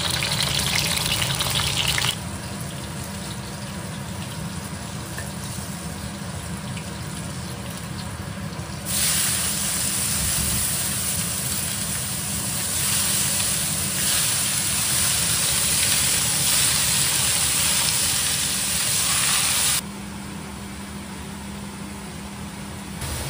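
Scallion, ginger, garlic and chili fry in a wok in a home kitchen with a loud, continuous hiss and spray that swells and drops in bursts as the ingredients hit the hot oil.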